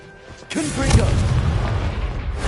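A Confringo blasting spell erupts in Hogwarts Legacy, a sudden loud close boom that rolls into a sustained rumbling, crackling blast lasting a couple of seconds.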